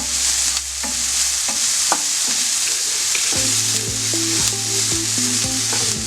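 Crushed dried chili being stirred into honey glazed chicken frying in a pan, a bright continuous sizzle with scattered spoon clinks against the pan, close up, while a low background hum runs underneath; no talking.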